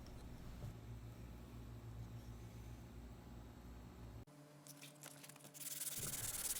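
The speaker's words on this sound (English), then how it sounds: "I sanded with a really fine sandpaper, I think 220 grit." Fine 220 grit sandpaper rubs steadily against a wooden phone stand, a continuous close scratchy hiss that briefly pauses and then resumes more strongly.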